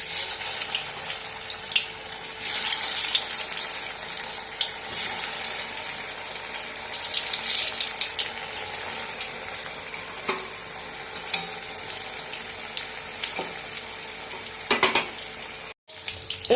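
Egg chops frying in hot oil in a home kitchen, a steady broadband sizzle running throughout with occasional clinks and stirring noises, no talking.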